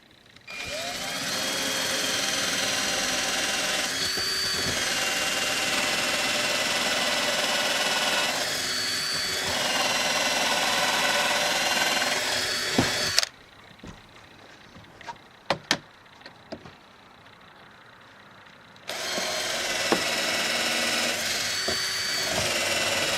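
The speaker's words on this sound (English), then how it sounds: "I'm going to use just a bit of a smaller drill bit to drill a little pilot hole" Power drill boring small pilot holes into wood for a lettuce and herb planter, a loud sustained whine lasting about thirteen seconds, a quiet pause with faint clatter, then the drill starting up again near and steady.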